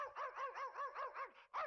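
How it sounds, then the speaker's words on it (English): A cartoonish dog in the King's Quest VII adventure game barks in a quick run of about six bouncy, evenly spaced yaps, then one final bark after a brief pause, clear and close. "Cuddles comes up, sniffs her,"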